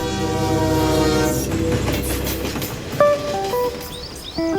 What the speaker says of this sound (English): engineers are testing an experimental train that all but eliminates track friction